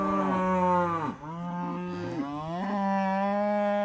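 Cattle on a farm in Fulton, Missouri, being herded toward pasture, moo loudly and up close in long, drawn-out calls, several lowing voices overlapping and following one another with no talk.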